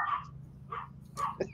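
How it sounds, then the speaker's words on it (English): A dog barks in short bursts indoors, three separate yelps spread over a second and a half at moderate distance, with a low hum underneath. "Dog"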